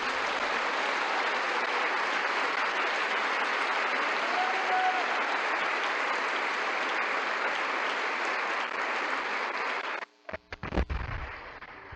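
A church audience applauds the Lord with dense, loud, steady clapping from many people that runs for about ten seconds, then breaks off abruptly into a few scattered sharp thumps and noises.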